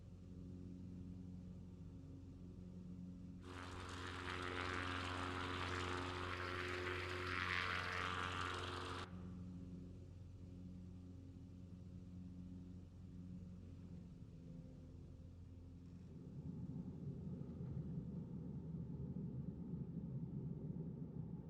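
A small propeller airplane flies low over the ground while landing at Cortez, Colorado, with a steady engine drone swelling into a loud, close pass before settling back into a lower rumble.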